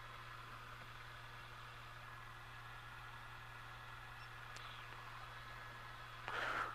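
A light aircraft engine drones steadily throughout, low and constant, during an engine check at a runway holding point, with a brief louder burst of noise near the end.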